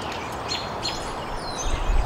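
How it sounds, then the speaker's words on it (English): Several birds chirping nearby in short bright calls over a steady outdoor background hiss. "These birds are so loud."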